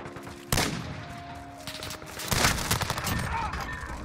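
Mini MP5 submachine gun firing in a video game, sharp close bursts with rattling automatic fire over a busy background of game effects and faint tones.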